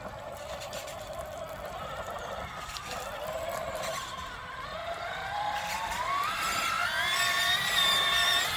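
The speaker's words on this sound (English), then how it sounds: "Let's give the Willys Jeep its first taste of some mud" A 1/6 scale ROCHobby 1941 Willys Jeep MB RC crawler churns through mud, its electric motor whine rising steadily in pitch toward the end with a faint slipping, gravelly texture underneath.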